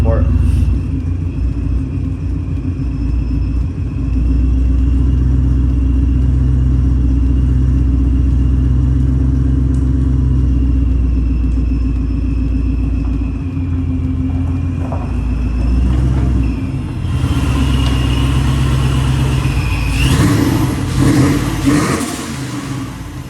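A supercharged Shelby GT500 clone's engine idles with a deep, steady rumble close by, then revs up near the end with a louder roar and rising whine.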